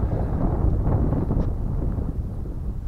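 Gusty wind buffets the microphone at an RC jet flying field, a steady low rumble with rough swells and no clear voices.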